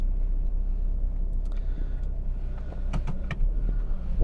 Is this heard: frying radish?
no